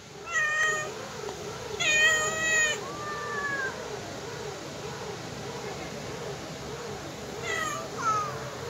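Several house cats meow repeatedly, with drawn-out cries rising and falling over soft background noise and a brief caterwaul near the end.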